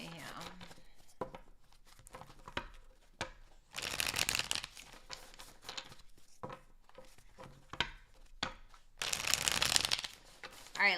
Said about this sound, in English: last shuffle for Gemini